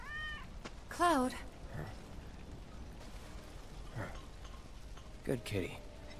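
A cat meows in the video game Final Fantasy VII Remake, with a clear rising meow near the start and another about five seconds in, over quiet game ambience and soft background sounds.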